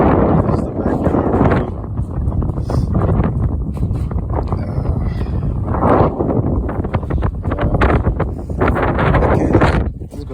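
Gusty wind buffets the microphone outside a home garage on a windy day, a loud continuous rumbling roar with rustling bursts, while someone talks over it.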